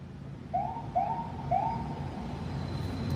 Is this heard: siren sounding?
yes